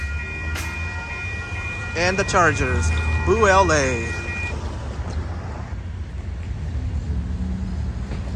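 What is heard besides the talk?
Amtrak Coast Starlight train with three P42 locomotives passing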